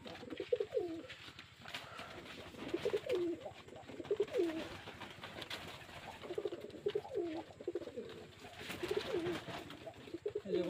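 Pigeons at a pigeon farm coo in repeated rolling phrases, several birds calling near and farther off over nearly eleven seconds, the calls rising and falling in bursts.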